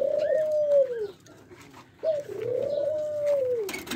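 A male dove at close range gives two long, smooth, drawn-out coos separated by a brief pause, with nothing else heard.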